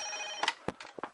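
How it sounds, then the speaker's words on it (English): A telephone rings with a steady electronic tone, followed by a few short clicks and knocks nearby. "my phone is ringing"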